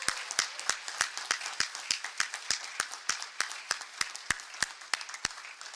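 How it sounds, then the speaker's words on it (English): Audience applause for a group of young people at a public event, a steady run of sharp, separate claps at moderate distance lasting several seconds without voices. "Can we all give them a big round of applause?"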